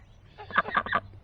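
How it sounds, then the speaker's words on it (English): Ducks kept in a home garden call out in a short run of three or four nasal quacks over about half a second, close and fairly quiet against low background hum. "these things are ducks"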